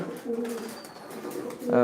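Mini racer pigeons coo at a pigeon farm in Sylhet, with soft, low, throaty cooing close by and a louder burst at the end.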